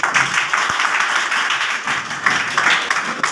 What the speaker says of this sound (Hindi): चलिए अच्छा नंबर है इसलिए जोरदार ताली होना चाहिए